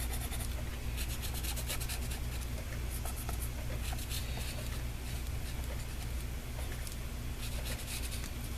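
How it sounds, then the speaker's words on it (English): A pen scratches across paper while writing on small handmade postcards, a close, continuous dry scribbling texture with short quick strokes and no talking. "My pen is not liking writing on top of this."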